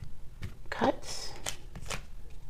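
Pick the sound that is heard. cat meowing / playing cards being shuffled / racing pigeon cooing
playing cards being shuffled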